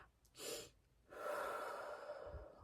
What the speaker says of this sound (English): do a 3 inhale breath and then release it all in one go